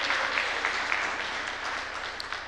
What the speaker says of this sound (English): And yes, applause for that.